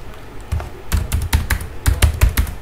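Close typing on a computer keyboard while writing HTML code: a few scattered key taps, then a denser run of crisp clicks in irregular bursts, with no talk.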